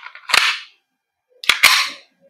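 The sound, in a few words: gas blowback airsoft gun firing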